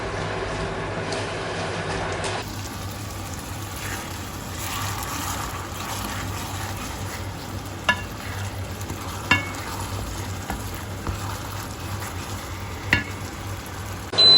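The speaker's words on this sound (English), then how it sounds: "we're going to mix that through really well now" Pad Thai with lime juice being stirred and fried in a pan, a steady close sizzle with occasional sharp scrapes and clinks of the utensil, starting quieter then louder after a couple of seconds.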